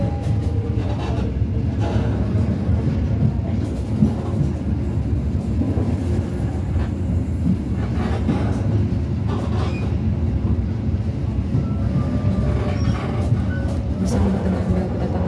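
The Dharmawangsa economy train rolls into Cirebon Prujakan station, a steady low rumble of wheels and carriage noise with faint rail clatter and occasional squeals, heard from inside the train.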